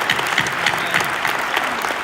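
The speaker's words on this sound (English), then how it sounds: "So if you guys could give him a round of applause" A crowd applauds steadily, many hands clapping together in a dense, even patter that holds at the same level throughout.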